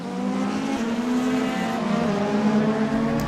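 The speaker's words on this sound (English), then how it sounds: "the battle between the 2 Australians, Matt Wheeler in the Mercedes and the BMW of Mark Minahan" Mercedes and BMW race cars battle through the corkscrew, engines roaring steadily and loudly with strong harmonic drone, close and continuous throughout, no talk.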